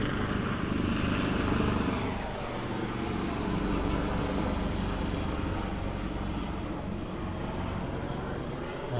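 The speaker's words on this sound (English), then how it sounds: "Let me wait until this helicopter goes." A helicopter passes overhead beside a road, its broad rotor and engine roar steady and fairly loud for the full nine seconds, with no talking.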